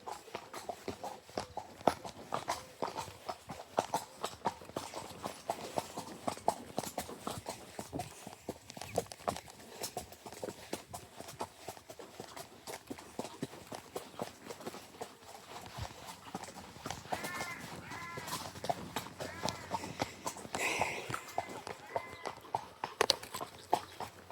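Horse hooves clip-clop at a steady walking rhythm along a British country lane, fairly close and moderately quiet, continuing throughout with faint background sounds.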